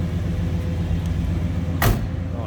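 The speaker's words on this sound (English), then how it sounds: "Oh, nicely that door closes and fits." The door of a 1966 Buick Skylark two-door hardtop shut with a single solid, close thud near the end, over a low steady background hum, with no voices.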